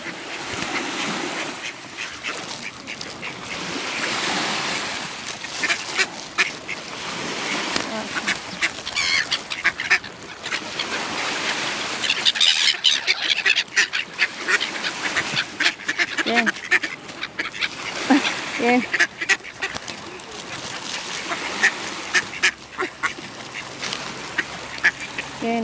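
Ducks quacking and squabbling up close while being fed, busy overlapping honking quacks and rustling that rise and fall for about twenty-five seconds, with occasional brief human sounds mixed in.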